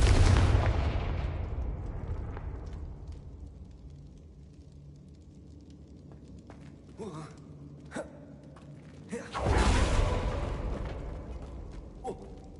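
Hogwarts Legacy's Confringo fire spell goes off with a loud booming blast that fades away, followed by smaller in-game effects and a second heavy explosion, with a voice speaking over the game.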